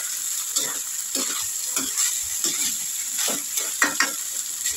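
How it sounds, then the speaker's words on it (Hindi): Cooked rice is stirred and tossed in a hot pan with oil for fried rice, a constant sizzle broken by regular scraping strokes of a spoon against the pan, heard close and alone. "अब हम इसमें चावल को ऐड कर देते हैं। सबको मिक्स करना है।"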